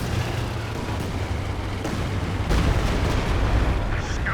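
Calliope rocket artillery firing in a 4v4 Company of Heroes 2 match, a dense, loud barrage of overlapping launches and booming blasts rolling continuously, with heavier impacts building toward the end.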